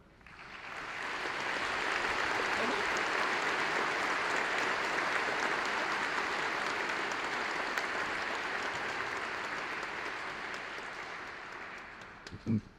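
Sustained applause from a large commencement audience honoring the faculty, loud and steady across the whole stretch with no talk, tapering slightly near the end before a brief bump.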